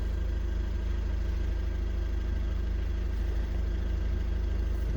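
A Volkswagen 2.0 TDI diesel engine idles steadily, a continuous low, even rumble with no change in pace, close by and with no voices.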